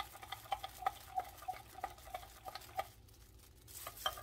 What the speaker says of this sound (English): I'm going to use the ground cloves. So I'm going to sprinkle a little of this in there. Not put too much there. And just give it a good stir.